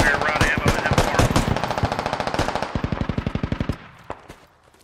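Machine gun fire in the video game Squad: long rapid bursts of automatic shots, loud and close, slowing into a steady run of distinct rounds before trailing off with a few scattered distant shots.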